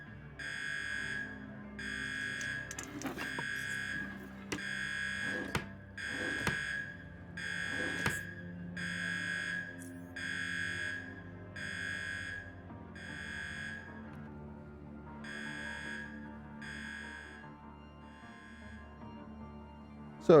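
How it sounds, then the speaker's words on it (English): An electronic alarm in the game Underrail beeps repeatedly in an even series of buzzy pulses at moderate volume, with a few sharp clanks and impacts mixed in and no talk over it. "it will beep a bit."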